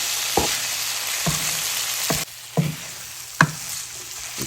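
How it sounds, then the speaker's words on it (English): Nachos dip ingredients get stirred together, with a spoon knocking and scraping against the bowl about five times in an uneven rhythm over a soft background hiss. The sounds are close and there is no talking. "Go ahead and mix this all up."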